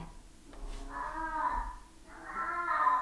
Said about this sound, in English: you can hear my cats. They are crying because it's spring and they're like in their mating season.